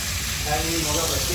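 Hilsa fish frying in a pan at a riverside ghat eatery, a steady close sizzle and hiss of hot oil throughout the short moment.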